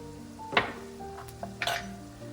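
A spoon stirs parsley, oregano and dried mustard into a pot of chicken and rice soup, with two or three sharp clinks of utensil against the pot between quieter scraping, close and fairly soft.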